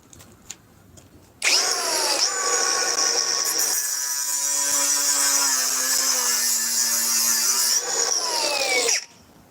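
A Milwaukee One-Key cordless power tool breaks a bolt loose with a loud, high whine that spins up, runs steadily for several seconds with a shifting hum, then cuts off abruptly, heard alone up close.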